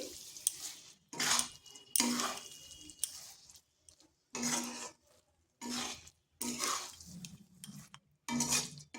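Semai vermicelli is stirred in a pan in short bursts of scraping and clinking, spoon against metal, separated by quiet pauses, close and fairly soft.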